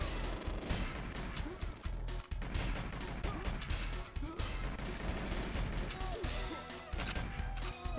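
Dense, continuous enemy gunfire from the leaked beta build of the GoldenEye video game, with sharp repeated shots and crashing impacts layered over game music for the whole stretch.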